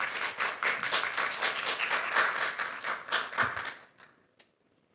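A seminar audience on AI ethics policy applauds to welcome the speaker giving the opening address: dense, sustained clapping from many hands that thins out and fades to silence, with one last stray clap.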